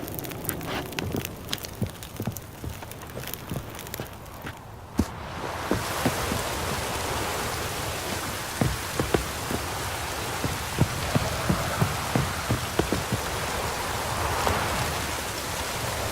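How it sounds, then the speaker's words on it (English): Steady, heavy rain falling in the Velen region of a fantasy video game, a dense continuous patter with scattered louder drops. It starts quieter, then thickens into a fuller downpour partway through and holds there without any voices. "Does it always rain this much in Velen?"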